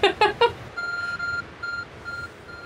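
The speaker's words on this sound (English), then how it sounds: "Your arc phone is beeping." An Arc Phone beeps in Pokémon Legends: Arceus on an icy mountain: a few quick bright chirps, then a sustained electronic tone that pulses on and off several times, clear and alone.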